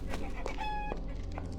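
A chicken in the video game Arx Fatalis gives a few short clucks with a brief tonal squawk, fairly close over a steady low game hum.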